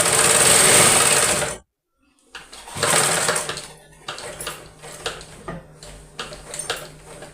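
A sewing machine stitches a small-piece blouse in straight seams, a loud whirring run at the start, then a brief pause before softer, intermittent stitching bursts with clicks continue close by.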